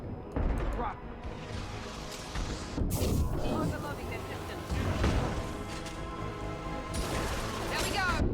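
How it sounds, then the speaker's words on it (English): Rocket barrages and explosions in the video game Mass Effect 2, heavy booming blasts and crashes that keep coming, mixed with gunfire and a voice talking over the combat. "dealing with charging Krogans and Vorcha with flamethrowers while dodging a constant barrage of rockets"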